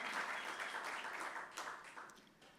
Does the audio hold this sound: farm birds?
no